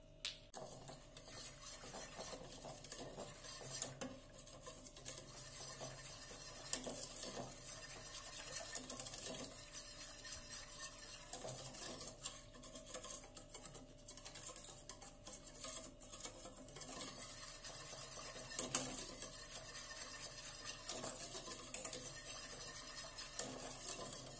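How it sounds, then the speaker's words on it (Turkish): A spoon stirs fruit milk pudding continuously in a pot, giving soft, faint scraping and swishing strokes in a steady rhythm with occasional light clinks against the metal. "Tatlımız istediğimiz kıvama gelinceye kadar sürekli karıştırıyoruz."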